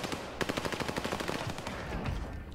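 Type 100 machine gun firing in a video game: a fast, continuous burst of sharp rapid shots for a couple of seconds, loud and close, with no talk over it.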